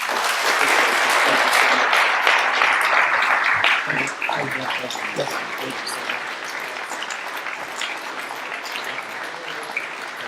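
An audience at a Blount County, Tennessee commission meeting applauds the Maryville High School football team, a dense burst of clapping that is loudest at first and then thins slightly, with a few voices mixed in.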